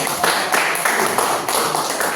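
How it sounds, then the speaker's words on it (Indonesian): Students in a civics classroom clap their hands together, a dense, even patter of applause that carries on for a couple of seconds close by. "Oke, tepuk tangan dulu."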